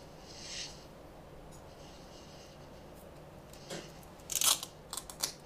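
Scissors snip through a piece of cloth gaffer's tape during a headphone repair, a few crisp cuts near the end after quieter handling and rustling.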